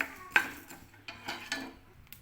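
Curry leaves and dried chillies roasting in a pan over a low flame, a few sharp clinks and scrapes of a ladle against the metal with faint crackling between, close and quiet.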